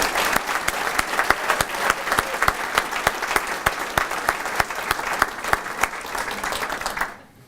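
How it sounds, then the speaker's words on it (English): An audience at an event claps loudly for the sponsors, with dense applause and sharp, regular accented beats running for about seven seconds before it cuts off abruptly. "could you please give our sponsors a round of applause for their support?"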